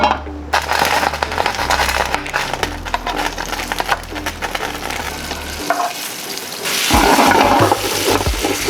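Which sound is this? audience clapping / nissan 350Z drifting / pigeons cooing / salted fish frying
salted fish frying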